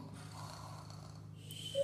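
A person imitates snoring while playing with Playmobil figures, giving soft, raspy breathing snores over a low background hum.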